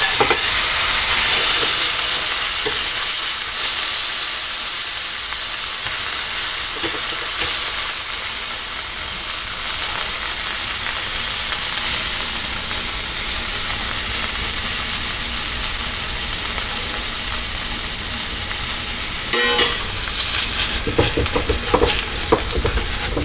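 Smash burger patties sizzle and fry loudly on a hot griddle or pan, a dense continuous crackling hiss with occasional scraping, close up and with no one talking.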